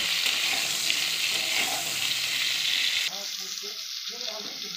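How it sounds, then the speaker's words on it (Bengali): Pointed gourd (potol) pieces frying in hot oil with salt, a loud continuous sizzle that drops slightly partway through as the pieces are stirred, with faint scraping underneath. "এবার পটলগুলোকে ভাজতে দেবো"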